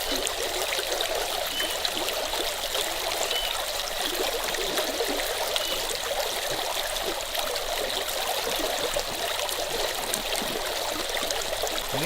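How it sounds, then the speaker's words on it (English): A swift, strong-current creek rushes steadily nearby, a continuous bright hiss and gurgle of flowing water with no talking. "I put it in the second notch because this creek is very swift."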